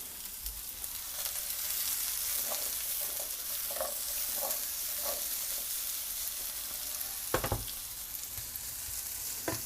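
Small cut breakfast pieces frying in a pan, a steady close sizzle with soft scraping and tapping of stirring scattered through it, plus a sharper clatter near the end.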